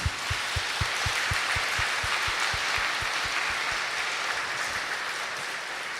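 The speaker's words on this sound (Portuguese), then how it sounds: "Vamos dar uma salva de palmas para as grávidas." A church congregation applauds pregnant women during a Mass, with a dense, even wash of clapping from a crowd. Rhythmic low thumps punctuate the first few seconds.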